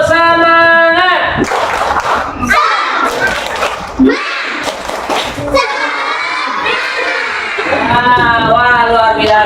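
A group of schoolchildren claps and chants in a rhythmic cheering routine, loud and close, with a crowd of young voices shouting together between bursts of clapping.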